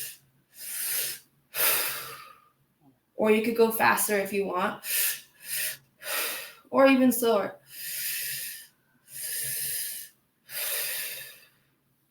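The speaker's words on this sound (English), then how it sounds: "you're going to breathe through your mouth into your lower belly so that your belly balloons out" Repeated loud breaths through the mouth in a meditation exercise: two quick inhales into the belly and then the chest, followed by a mouth exhale, cycling steadily. Someone speaks briefly midway.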